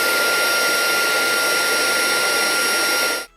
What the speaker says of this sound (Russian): На минимальных оборотах пылесос для сухой уборки выдает в пределах 74 дБ. С повышением оборотов характер гула меняется, но уровень шума остается прежним.